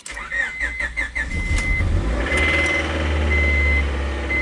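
A 2000 Honda Prelude being started by its owner: a few faint clicks and electrical whirring, then the engine catches around the halfway point and settles into a steady, loud idle with a high whine.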